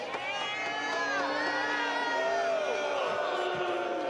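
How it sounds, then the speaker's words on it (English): A finish-line crowd at the Red Bull Rampage 2024 men's mountain bike competition boos, a loud, continuous wash of many voices with rising and falling jeers and calls that never lets up. "we're hearing some boos from the finish crowd right now"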